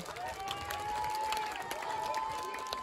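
An audience in a village applauds the mayor: steady, dense clapping that holds for the whole stretch at an even level, with a faint sustained tone running beneath it.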